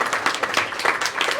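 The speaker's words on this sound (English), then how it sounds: "Right, excellent answer, round of applause." A short burst of audience applause at a comic murder mystery show, with dense clapping throughout.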